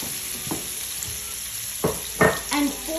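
Smashed garlic, yellow onions and baby carrots frying in olive oil, a continuous close sizzle broken by a few sharp stirring scrapes near the end.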